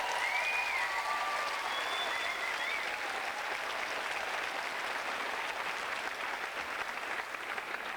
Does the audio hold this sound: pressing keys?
no